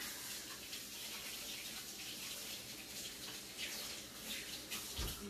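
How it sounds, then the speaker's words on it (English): Water runs steadily from a kitchen tap as hands are rinsed while an apple pie bread pudding is prepared, giving a continuous soft splashing rush with a brief louder splash near the end. "Rinse off the hands."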